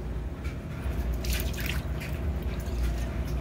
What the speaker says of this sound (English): The only water that's coming out is through the little ventilation holes.